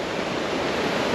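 Rushing water at waterfalls in a park near Crossville, Tennessee: a steady, dense broadband roar with no breaks, close and fairly loud throughout, with no voices over it.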